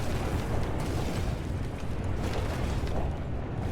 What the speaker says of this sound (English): That's just the furnace on the engine making a lot of noise